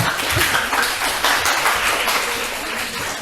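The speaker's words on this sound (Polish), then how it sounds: "Proszę o brawa" Audience applause at a gathering in a home flower presentation, a brief dense burst of many hands clapping, loud and continuous with no voices on top.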